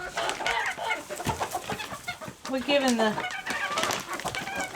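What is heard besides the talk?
chickens clucking while being given treats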